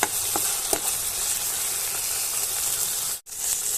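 Ginger garlic paste fries in a pan for prawn biryani, giving a steady, loud, close sizzle with a few soft stirring clicks and a brief dropout near the end.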